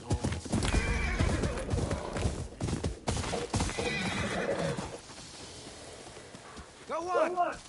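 Horse hooves clip-clop and a horse neighs in the video game Ghost of Yotei, with steady hoof steps throughout, game speech and music over them, and a loud whinny near the end.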